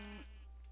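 A single short sheep bleat from Minecraft, a quick faint nasal baa lasting a fraction of a second over a low steady background hum.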